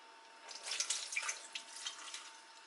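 Water being poured and strained out of a kitchen bowl while preparing Dungeness crab, a short run of light splashing and trickling, close and moderately quiet, with no talking.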